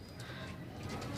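Pigeons coo softly at a pigeon sale in Gujarat's Sarai Alam, a brief, low murmuring call over a faint background hum.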